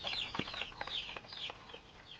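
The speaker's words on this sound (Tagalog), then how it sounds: "yung ating 3 months old na sisiw na pabo" Three-month-old turkey chicks on a backyard farm calling: a continuous faint flock of high peeping and clucking chirps, overlapping and irregular, with no voices.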